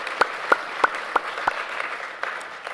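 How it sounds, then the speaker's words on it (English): At a tourism industry event, a handful of distinct, sharp claps ring out in a short, uneven burst, loudest at the start and fading to scattered softer claps within three seconds. "I think we should start by giving ourselves a round of applause."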